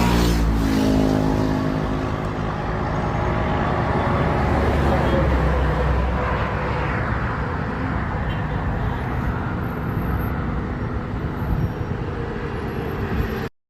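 Heavy traffic on Bahai Expressway in Tehran as people try to leave the city, a dense steady road rumble of many cars close by with engines droning and occasional louder passes.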